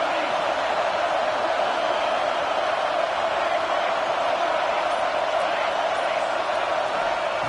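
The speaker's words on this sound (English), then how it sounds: "listen to this crowd noise. This stadium is vibrating" A packed college football stadium crowd roars in a continuous, loud wash of noise that never lets up, with no single voice standing out.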